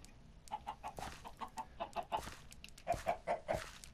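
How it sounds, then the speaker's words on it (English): Chickens in Minecraft cluck in short, evenly spaced bursts, quiet and close, in two runs of repeated clucks with soft game noises between. "I'm farming my chickens."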